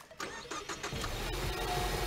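A turbocharged 2.3 EcoBoost petrol engine in a Ford Mustang cranks in a quick run of whirring starter pulses and catches into a steady idle, heard fairly quietly.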